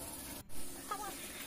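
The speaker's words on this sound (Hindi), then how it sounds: "विसल स्टार्ट होने तक फ्लेम हाई रखेंगे" A pressure cooker with mutton inside releases a steady, hissing stream of steam through its whistle, broken by a brief drop and a faint rising whine near the end.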